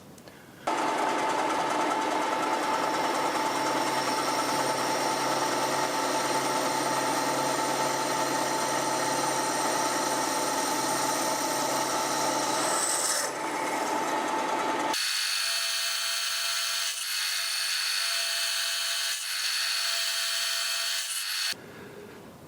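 A mounting plate for a milling slide is drilled with four holes, giving a steady high machine whine and cutting noise that runs continuously, then shifts to a thinner tone partway through, close and loud.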